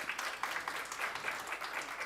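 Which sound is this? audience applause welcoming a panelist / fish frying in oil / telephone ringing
audience applause welcoming a panelist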